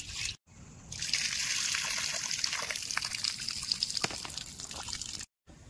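Basmati rice being rinsed in water for Telangana-style bagara rice, with a steady close trickle and sloshing of water lasting several seconds, broken by brief silent cuts at the start and end.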